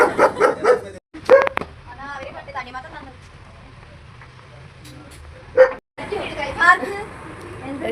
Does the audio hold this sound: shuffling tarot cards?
no